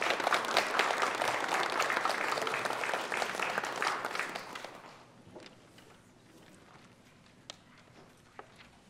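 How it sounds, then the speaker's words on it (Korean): A church congregation at a Sunday worship service applauds to welcome a pastor, a full sustained wash of clapping that dies off after about four seconds into a quiet room with a few scattered taps. "우리 박수로 환영하겠습니다"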